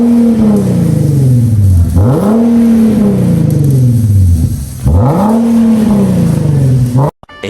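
A Nissan VQ engine with a modified exhaust, fixed to cure its rasp, revs hard three times in a row. Each loud, close rev rises and then falls back, ending in a sudden cutoff.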